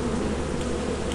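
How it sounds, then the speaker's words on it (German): Bees buzzing in the Lethal Company game, a dense, steady, loud swarm hum filling a short moment with no voices. "Bienen!"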